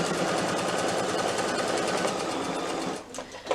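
A sewing machine stitching up the side of a small batik wallet and back tacking, a rapid, even mechanical chatter that runs steadily, then stops abruptly near the end with a couple of brief clicks.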